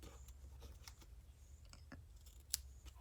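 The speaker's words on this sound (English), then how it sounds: "And then I can go and trim." Scissors snip ribbon on a handmade stamped greeting card, giving a few quiet, close crisp cuts over a faint background hum with no talking.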